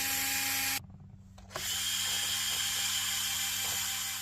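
Small 1.5 mm screws being driven into the battery box of a mini RC truck with a small power driver, a steady close whirring buzz broken by a brief pause partway through, with no talking.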